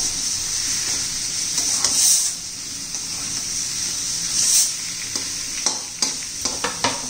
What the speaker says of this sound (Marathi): आता त्याच्यामध्ये आपण हे केळीच्या फोडी घालून घेऊ. व्यवस्थित मिक्स करूया.